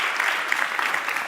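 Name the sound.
audience applause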